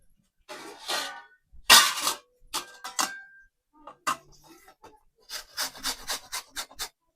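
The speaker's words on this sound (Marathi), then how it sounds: "तर आता ही किसून घेते आंबा मी." Peeled raw green mango being grated by hand: uneven rasping scrapes in short bursts, close and moderately loud, with a quicker run of strokes near the end.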